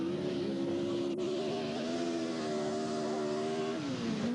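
A rally car engine drives hard uphill at speed, a steady, loud, close droning roar that dips briefly near the end as the revs change, with no talking.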